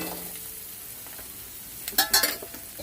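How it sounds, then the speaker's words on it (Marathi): Chopped onions sautéing in a pan for a Maharashtrian thali, a soft steady sizzle with a few louder stirring scrapes and crackles near the end. "आपले कांदे आहेत ते टाकायचे. तेही चांगले परतून झाले."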